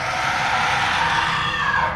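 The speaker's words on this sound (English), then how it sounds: "A horrifying scream rings out." A horrifying scream rings out in a tabletop wargame set in the Dead Marshes, a loud, sustained, shrill cry lasting about two seconds with no talk over it.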